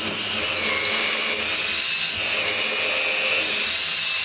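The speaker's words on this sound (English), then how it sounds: "you got to put the drill all the way in there" A power drill whines at high pitch continuously, grinding steadily through wood while boring a hole for a barrel bolt, without pause.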